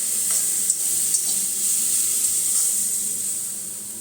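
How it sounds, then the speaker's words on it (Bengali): Vegetables frying in a pan with a steady bright sizzle and hiss, plus a few soft clinks as they are stirred, close and continuous with no talking. "সব ভাজাটা করে নিই।"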